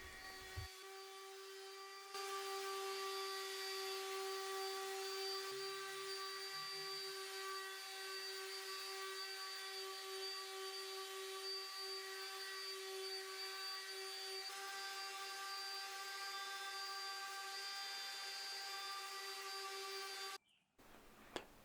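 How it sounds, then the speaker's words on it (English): Power sander working over a vintage coffee table with 120 then 220 grit, a steady, even whine with a constant pitch that runs for about twenty seconds without a break and stops abruptly near the end. "It's going to feel like you're sanding your entire life away"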